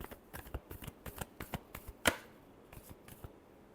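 Tarot cards being shuffled by hand: a quick run of soft, crisp flicks and taps with one sharp snap of the deck midway, close and fairly quiet, with no talking.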